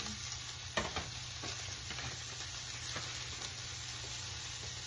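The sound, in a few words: leftover onion and jalapeno sizzling as thrown into pan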